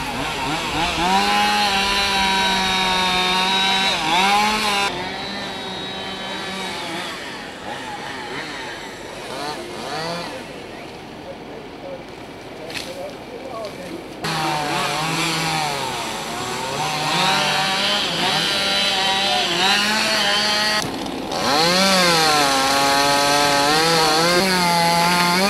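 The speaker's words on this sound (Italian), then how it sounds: "necessario l'abbattimento delle piante per questioni di sicurezza stradale" A chainsaw fells tall fir trees beside a provincial road, its engine loud and close, revving and bogging down through long cuts with brief drops between bursts; a faint voice speaks under it.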